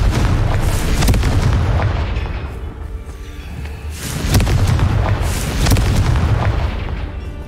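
Confringo blasting spell explosions in the Hogwarts Legacy video game, several deep booming blasts with sharp onsets around one, four and five seconds over a dense rumbling game background.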